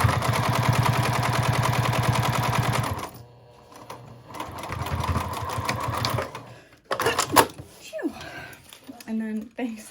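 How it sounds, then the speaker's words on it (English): A sewing machine top stitching through exterior fabric, whirring steadily at speed for a few seconds, then stopping and starting in shorter runs with a voice speaking in between. "when you top stitch, you're only going to top stitch through the exterior fabric"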